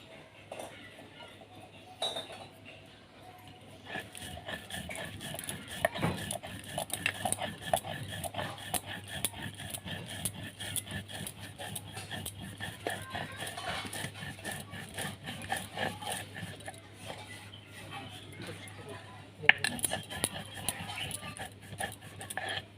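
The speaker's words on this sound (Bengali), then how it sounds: "বন্ধুরা সবজিটা সিদ্ধ হতে হতে আমি যে মশলাটা ভেজে রেখেছি এটা এখন গুঁড়া করে নেব।" Roasted spices for a Bengali shukto are ground in a grinder, a steady, fairly faint whirring and rattling that runs on for about twenty seconds with small clinks.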